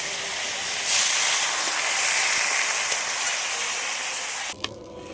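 Pumpkin greens frying in a pan give a loud, steady, broadband hiss and sizzle that continues for several seconds, then drops off abruptly near the end.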